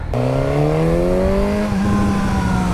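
A Suzuki racing motorcycle engine revs up loud and close, its rising harmonic howl climbing steadily before levelling into a sustained high-pitched wail, with no talking.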